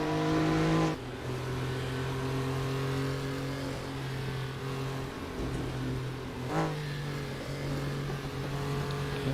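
A Porsche Carrera Cup race car in a racing video game, heard through the Silverstone chicane: the engine tone drops sharply as it lifts off, then holds a steady drone before revving back up near the end, with no voices.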